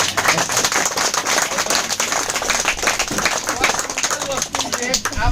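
A loud, steady round of clapping from an audience in an auditorium hall carries on throughout, with faint voices under the dense claps.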